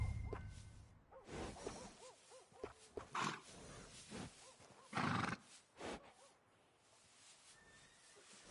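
A horse in Red Dead Redemption 2 gives loud whinnies and snorts, up close, in several bursts with gaps of quiet between them and faint hoof clops.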